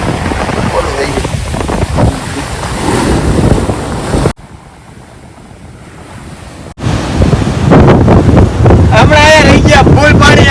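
Sea waves breaking on a beach in Diu, loud surging surf with heavy wind buffeting the microphone, a brief quieter lull in the middle, then strong crashing water returning close by.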